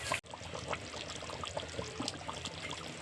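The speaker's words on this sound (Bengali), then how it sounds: "এবার আমি অন্য একটা পাত্রে নিয়ে নেব।" Cooked beef curry with khoya kheer and ghee being poured and scraped from one pot into another, faint soft wet glugs and small clinks close by.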